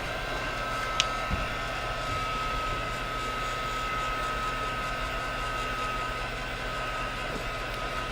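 A hair dryer blows steadily to dry paint in an art journal, a constant broadband whoosh with a faint whine held for the full length, close and even, with no talking.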